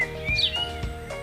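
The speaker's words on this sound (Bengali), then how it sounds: "এখানে পাখির কিচিরমিচির" Birds chirp briefly at sunset beside a long stone stairway at a temple in Bankura, a few thin high calls over soft outdoor background noise.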